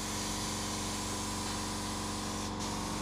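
A spray gun applies a second coat of sanding sealer mixed with wood stain onto wood for a melamine finish, giving a steady, continuous hiss with a pump-like hum beneath and no talk.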